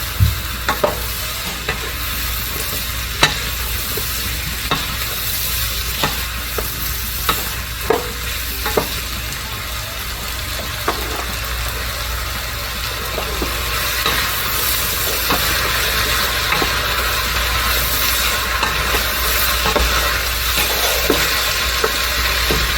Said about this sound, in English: we're going to bring in the mushrooms